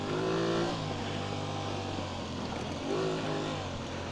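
An Aprilia Tuareg motorcycle engine hums and revs while being ridden, rising and falling in pitch twice against steady wind noise, with no voices.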